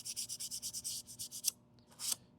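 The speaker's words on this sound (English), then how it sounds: "So I'm scrubbing away from the sharp edge, so that's nice and safe to do." A landscaping tool blade is scrubbed clean with quick rhythmic back-and-forth rubbing strokes, about ten close scratchy passes, then a pause and two final scrubs.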